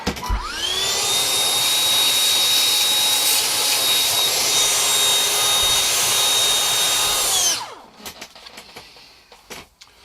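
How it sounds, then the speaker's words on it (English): A vacuum cleaner hoovers dust from the routed body cavity of a budget Mustang-style guitar build, a loud steady whine that starts abruptly, runs for about seven seconds, then cuts off and winds down, followed by quiet handling noises. "Just quickly hoover that out."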